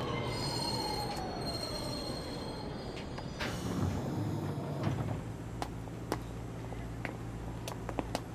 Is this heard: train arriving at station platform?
yes